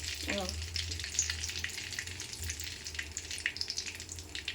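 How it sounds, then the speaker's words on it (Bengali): Chopped onion hitting hot oil in a pan for a chickpea and paneer curry gives a loud, continuous close-up sizzle, crackling steadily while it is stirred. "এই যে পেঁয়াজটা দিয়ে দিচ্ছি। পেঁয়াজটা এবার নাড়বো।"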